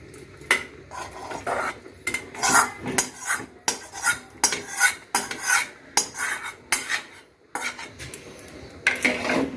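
Fried potatoes and vegetables tipped into a cooking pot for khichuri made with Gobindobhog rice, with repeated metallic clanks and scraping of a utensil against the pot at close range in an uneven rhythm, no talking.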